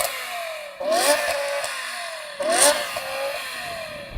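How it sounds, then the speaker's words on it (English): A BMW M5 engine revs twice in quick succession, each blip rising sharply and falling back to a steady idle, close and loud with no talking. "I'm going to rev this up first."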